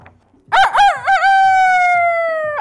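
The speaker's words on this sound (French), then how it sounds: "Alors le coq chanta." A rooster crows once, loud and close, with one long sustained cock-a-doodle-doo in a village at night.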